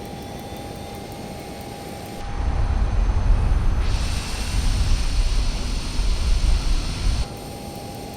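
The left jet engine of a Learjet starts up in Microsoft Flight Simulator: after a quiet cockpit hum, a loud roaring rush kicks in, then a rising turbine whine builds and holds steadily.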